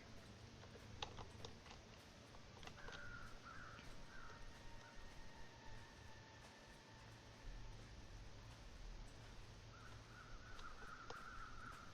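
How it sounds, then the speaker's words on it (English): Crows caw in a video game, faint and distant, with a few hoarse calls drifting over a steady low ambient hiss and scattered soft clicks. "I hear crows nearby, so something's got to be going on this way"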